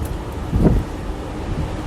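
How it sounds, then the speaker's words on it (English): Strong wind rumbles against the microphone, a low steady roar with a brief louder gust in the middle. "It's very windy"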